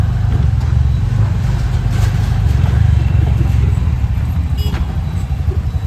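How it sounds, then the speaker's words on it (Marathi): A vehicle drives along a road in Navi Mumbai, its engine giving a steady, loud, close low rumble with road noise that continues throughout, with no talking. "आता इथं गाडी बघा कोण चालवतं"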